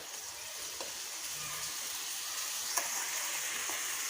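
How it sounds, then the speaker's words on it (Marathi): Cooked rice sautés in a pan for lemon rice, a soft, even sizzle with faint stirring scrapes. "थोड्या वेळेस परतून घ्यायचं आहे जास्त नाही आणि आता शिजवलेला भात आपण ह्याच्यात घालूया"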